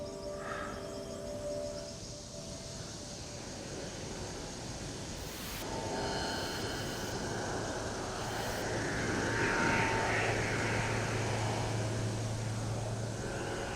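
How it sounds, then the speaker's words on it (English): A fixed-wing airplane passes high overhead in open country, a steady broadband drone that swells gradually toward the end, with no talk. "Suddenly, this airplane flew out over the top of us, quite high."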